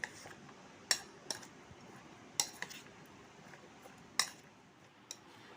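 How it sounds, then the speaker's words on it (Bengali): Egg roll filling mixed with gondhoraj lemon in a bowl, several sharp clinks of a utensil against the dish at an uneven pace over a quiet background. "ভালো করে মিক্স করে নিচ্ছি।"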